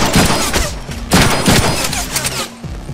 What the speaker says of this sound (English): Yeah, they're shooting me.